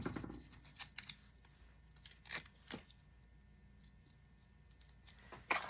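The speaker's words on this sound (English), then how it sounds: "Let's do Velcro. So I'm going to trim off 3 of these." Scissors snip through Velcro pieces at close range, giving a series of crisp, quiet cuts spaced unevenly over several seconds, with light rustling of material in between.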